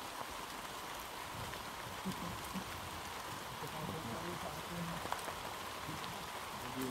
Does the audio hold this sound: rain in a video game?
yes